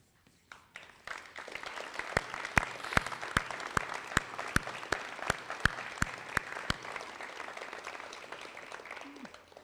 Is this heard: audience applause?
yes